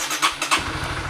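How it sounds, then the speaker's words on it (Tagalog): A motorcycle engine, run after an engine flush at over 60,000 km, catches with a few sharp bursts and settles into a steady, close, low idle chug. "And then, i-on yung makina."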